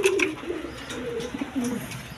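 Pet pigeons in a loft cooing and calling several times in quick succession, close by and moderately loud.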